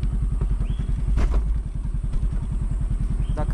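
A scooter engine idles and runs in Bali on the way to Lempuyang Temple, its steady rapid thrumming pulse close and loud throughout, with light clatter over the top.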